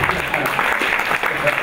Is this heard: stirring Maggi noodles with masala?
no